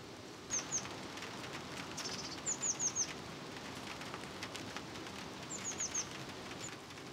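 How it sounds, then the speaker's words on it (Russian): Steady rain pattering on a surface outdoors near beehives, with short bursts of bird chirps and tweets breaking through in three small clusters over the continuous wash. "У нас пошел дождик."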